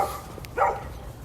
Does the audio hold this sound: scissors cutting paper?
no